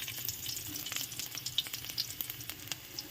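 Garlic frying in cooking oil in a pan for an ampalaya and black bean dish: a close, steady sizzle with scattered crackles and pops, alone without talk.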